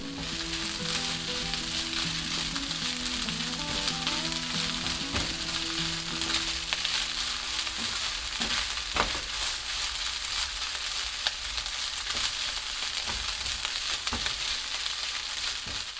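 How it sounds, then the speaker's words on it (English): Cooked rice fries steadily in a hot pan for Japanese-style fried rice, a continuous close sizzle broken by scraping and tapping as a spoon presses and mixes the grains, with no talking. "And please repeat the same process of tossing, pressing, and mixing about 4 or 5 more times."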